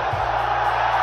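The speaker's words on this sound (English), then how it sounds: "Crowd goes bananas." A UFC arena crowd erupts in a loud, dense roar of cheering and whooping, a brief unbroken burst of mass noise.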